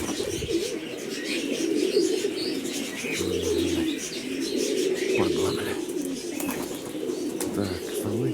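Pigeons in Mykolaiv coo with deep, repeated, rolling calls, mixed with light chirps and occasional wingbeats. The birds are close and fairly loud and continue steadily throughout, with faint voices nearby.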